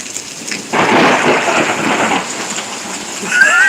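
Thunder rolls and rumbles through a heavy thunderstorm over Pittsburg, Kansas, loud and steady, with rain pattering on surfaces throughout.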